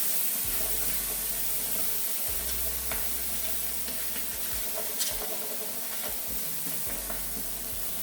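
About a tablespoon of garlic sizzling in a pan used to cook peppercorn-crusted New York strip steak, a steady dense hiss throughout with light stirring scrapes, close, with no talking.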